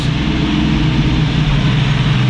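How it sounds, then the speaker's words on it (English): A loud 1965 Ford Mustang restomod engine idles close up with a rough, uneven low rumble from a misfire, its rhythm faintly stumbling as it runs. "it does sound like it has a miss."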